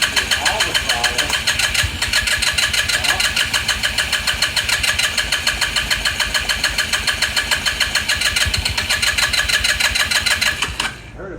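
A Lance Cali Classic 125cc scooter engine runs loud and close with a steady rapid chug, throttle held open and occasional pops before it cuts out at the very end.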